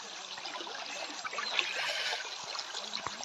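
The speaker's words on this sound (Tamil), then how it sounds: "இந்த தண்ணி அருவி வர சவுண்டுக்கும் சூப்பராக இருக்குங்க" A forest waterfall with flowing water gives off a steady broadband rush and splash, moderately loud and unbroken throughout.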